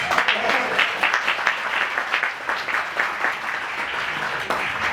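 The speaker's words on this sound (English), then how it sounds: "Give the Coast Guard a round of applause." Steady applause from a large audience at a keynote speech fills the space, dense clapping sustained throughout with a few louder swells.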